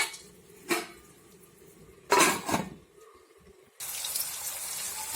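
A lid clanks onto a cooking pot of tomatoes for a dried prawn curry, with a few sharp metallic knocks followed by a steady hiss of simmering.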